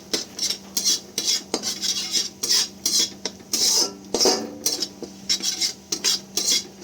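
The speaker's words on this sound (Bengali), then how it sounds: "এগুলো ভালো করে আমি মিক্স করে নেব।" A utensil mixes chili flakes into an egg garlic butter in a bowl, producing a quick, rhythmic series of close metallic scrapes and clinks with no talking.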